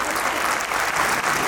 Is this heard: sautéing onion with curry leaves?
no